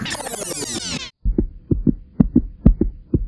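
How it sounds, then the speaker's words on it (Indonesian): A heartbeat sound effect thumps in a steady double-beat rhythm, loud and close, after a brief swelling tonal sweep at the start. "jantungku udah dak dikduk guys"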